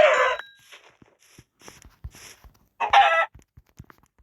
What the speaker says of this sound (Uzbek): Qani tovuq?